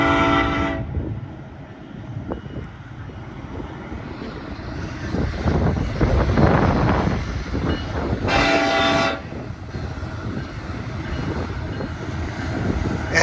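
BNSF freight train with an SD70ACE locomotive at Cajon Summit, a loud rumbling roll of engines and cars close by, with two long horn blasts at the start and midway.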